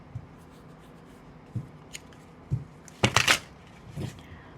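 Tarot cards being shuffled and laid out on a surface: scattered soft taps, then a quick riffling burst of cards, close and fairly quiet with no talking.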